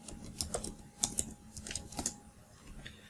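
Keys clicking on a computer keyboard while a column name is typed into a spreadsheet during a DAX tutorial, a short irregular burst of light taps, close and fairly quiet, with no voice over it.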